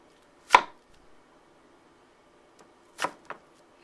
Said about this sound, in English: We're slicing up the zucchini into slices.